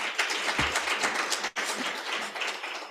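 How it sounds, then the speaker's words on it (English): Audience applause at a Women in Sport conference, a continuous crackle of many hands clapping that holds steady, briefly cuts out for an instant near the middle, then resumes at the same level. "Let's give a round of applause."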